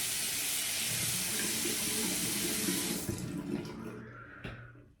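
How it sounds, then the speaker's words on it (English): Tap water gushes into a sink to wet a Mühle R41 safety razor, a steady close rush that cuts off after about three seconds and leaves a few drips and faint clinks. "let's wet the razor."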